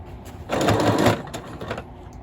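A sewing machine stitches a short back-and-forth pass on a padded journal cover, with a half-second burst of rapid close needle clatter that eases into lighter, slower stitching.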